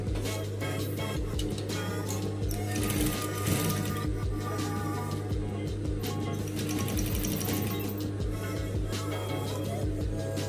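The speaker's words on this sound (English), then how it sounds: "I'll make sure I sew really close to the knot" Sewing machine stitching fabric on a twisted knot dress, a continuous close rhythmic rattling of the needle at steady speed with a constant motor hum underneath.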